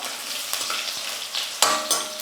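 Urad dal, garlic and small cut dried red chillies frying in oil for a Tamil meal with yam tamarind kuzhambu, a steady close sizzle with a few sharp stirring scrapes and clinks.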